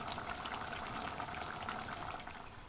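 Borscht with cabbage simmering in a covered pot, a faint, steady bubbling and soft liquid rumble that tapers slightly toward the end.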